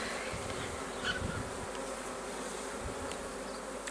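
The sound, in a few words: honey bees buzzing on hive frames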